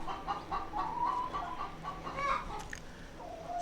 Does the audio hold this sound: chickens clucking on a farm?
yes